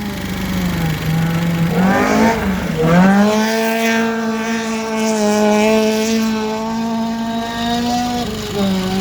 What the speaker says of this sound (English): the Datsun 1200 with a Suzuki 1600cc twin cam engine in it